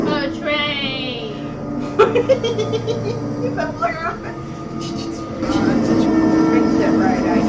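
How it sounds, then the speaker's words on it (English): A train rumbles through a movie scene, a loud low mechanical roar building toward the end, mixed with laughter and chatter from people reacting over it. "A train."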